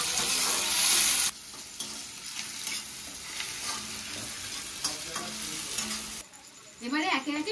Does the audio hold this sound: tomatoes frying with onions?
yes